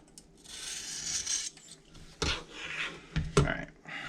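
A mild carbon steel blade is sharpened on a DMT Magna Guide, with rasping strokes across the diamond plate followed by a few knocks and handling sounds at close range.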